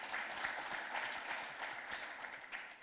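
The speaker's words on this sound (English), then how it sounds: "Clap for yourselves." Steady applause from a crowd at a political rally, a continuous rattle of many hands clapping, somewhat distant and moderately quiet.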